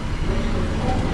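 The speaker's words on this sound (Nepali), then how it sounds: "this is the train" A passenger train travelling from Sydney to Hunter Valley in Australia, heard from inside as a loud, continuous rumble of the carriage in motion.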